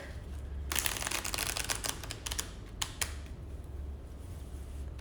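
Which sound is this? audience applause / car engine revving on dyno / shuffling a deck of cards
shuffling a deck of cards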